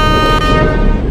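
Locomotive horn on the August Kranti Rajdhani special in Indian Train Simulator: a single loud, steady, sustained blast with a rich tonal sound, heard up close for just over a second.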